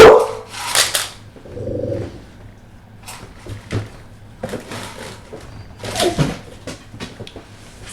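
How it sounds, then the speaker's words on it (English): A dog barks indoors in several short, separate bursts at uneven intervals, fairly near and moderately loud, with quiet stretches between them. "Sorry, that was my dog."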